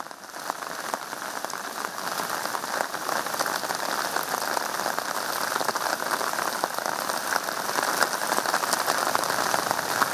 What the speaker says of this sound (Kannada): ಅಷ್ಟರ ಮಟ್ಟಿಗೆ ಉಡುಪಿ ಜಿಲ್ಲೆನಲ್ಲಿ ಮಳೆ ಸುರಿದಿದೆ